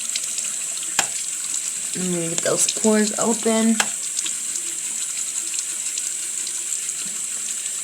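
A bathroom tap runs steadily as water is used to wet a face, a continuous hiss that carries on behind a brief stretch of speech.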